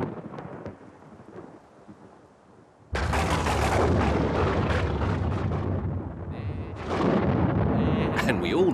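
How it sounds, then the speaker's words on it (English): Thunder from a storm breaks suddenly after a quiet stretch, a loud, sustained rolling crash that stays strong to the end with a second swell near the close. "Just listen to that thunder."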